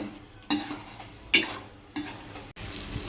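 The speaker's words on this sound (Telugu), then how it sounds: "ఇప్పుడు నేను కొంచెం లైట్గా కొత్తిమీర వేసుకుంటాను మొత్తం ఇలా కలుపుకుంటాను" A spoon stirs chopped coriander through egg biryani in a pot, with a few sharp scraping strokes and bursts over a low background sizzle, close and fairly quiet, with no voices.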